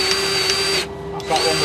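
A grease pump greases the top bearing of a conveyor head drum while a steady, loud mechanical whine runs throughout, briefly dropping away near the middle before resuming.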